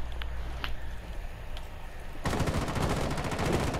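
Rapid automatic gunfire from Tom Clancy's Rainbow Six in a ranked match bursts in after a few scattered single shots, then continues as a loud, dense, fast rattling stream to the end; no speech.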